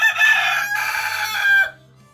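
A rooster crows loudly and close by, one long drawn-out call that cuts off sharply, with faint clucking from hens low underneath.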